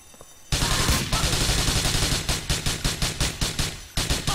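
Rapid bursts of gunfire from the video game Grand Theft Auto IV, loud and close: a sudden opening volley followed by a rhythmic string of repeated shots, with no talking.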